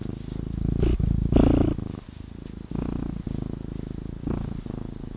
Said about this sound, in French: Écoutez ce ronron ASMR.